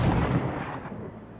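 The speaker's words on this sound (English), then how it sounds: "So as you can see, these are the cannons." Ship cannons in Star Citizen fire in a loud, heavy burst that opens with a sharp blast and rolls off into a rumbling decay, alone without voices.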